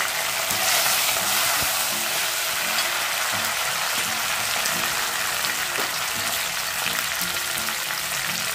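Chopped tomato frying in a pan of hot oil with browned garlic and curry leaves, a steady close sizzle with light stirring throughout, no talking.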